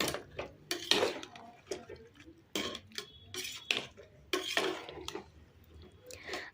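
Chicken biryani stirred in a pot, repeated metallic scrapes and clanks of a ladle against the vessel in uneven bursts, close and fairly loud, with no one speaking.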